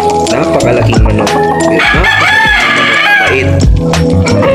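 A large Asil rooster of oriental type crows loudly and close, with a long drawn-out call over other fowl clucking nearby and a voice talking underneath.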